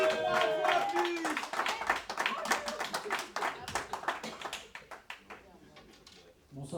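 An audience claps at a slam poetry night, with dense, quick clapping at first that thins into scattered claps and fades out as the room settles, with voices mixed in.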